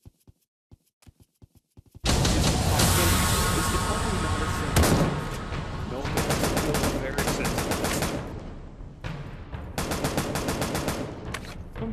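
Loud automatic gunfire fills most of a round of the VR game Pavlov on the Oculus Quest, arriving in sustained bursts after a few faint clicks and taps, with brief pauses between volleys.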